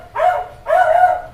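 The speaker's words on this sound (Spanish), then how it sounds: "Perdón por el ruido del perro." A dog barks twice, close and loud, with two short sharp barks separated by a brief pause.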